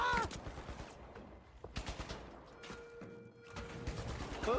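Gunfire in a video game, several quick shots and bursts over a busy game soundscape, fairly faint overall, with a voice heard briefly at the start and end.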